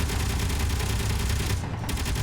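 Heavy, continuous Gatling gun fire from a video game vehicle battle, a dense loud barrage that runs through the whole clip with a slight dip near the end.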